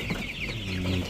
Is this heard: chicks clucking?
yes